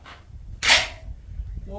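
An FN SCAR 17S battle rifle firing factory ammunition on an outdoor range fires a single sharp, loud shot partway through, and a voice follows faintly afterward.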